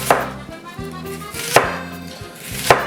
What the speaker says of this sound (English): you're gonna keep chopping all of your onions until you have an onion left